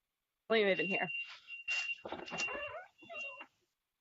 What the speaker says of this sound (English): sorry for the beeping sound.